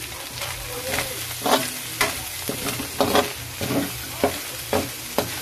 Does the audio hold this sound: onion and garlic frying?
yes